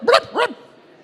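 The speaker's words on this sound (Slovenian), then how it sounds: "Tedaj pa se ji za skale razlegal lajaš." A dog gives two quick barks, close and fairly loud, the pair over within half a second and followed by a faint fading tail.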